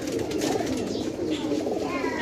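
Pigeons coo softly and continuously in low, murmuring tones against a steady background hiss.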